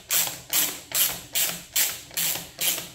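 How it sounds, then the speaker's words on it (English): Screws being backed out of the cover on a STIHL MS180C chainsaw, giving seven evenly spaced bursts of ratcheting clicks from a screwdriver, close and fairly loud with nothing else heard. "there's 4 screws here that we're going to take off"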